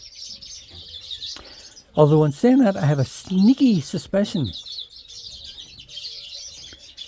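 Small birds chirp and twitter in an outdoor aviary, bright repeated calls running throughout, while someone talks close by in the middle.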